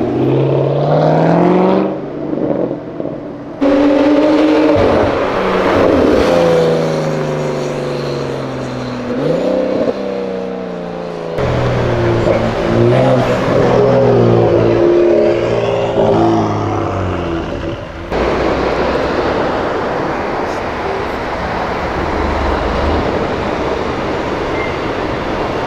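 A Ferrari engine screams loudly up to its rev limiter, the pitch climbing and bouncing off the cutoff in repeated surges, then fading into a lower rumble and background noise.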